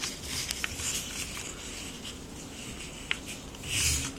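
A single sheet of paper is folded in half to start a paper airplane, producing faint, soft rustling and crinkling with a few light creases and taps, quiet and close.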